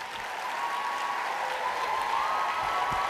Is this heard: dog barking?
no